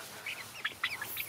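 Several young Golden Comet chicks give short, high chirps and peeps in quick scattered bursts, faint and close.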